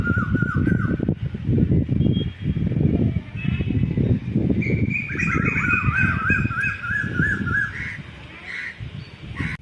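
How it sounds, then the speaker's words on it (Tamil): An Asian koel calls from a tree in the rainy season, its repeated rising calls fairly clear in the background while a person talks steadily in the foreground. "நல்லா மழை வர சீசனில் குயில் நல்லா பாருங்கள் மரத்தில் உட்காந்து கத்திட்டு இருக்கு"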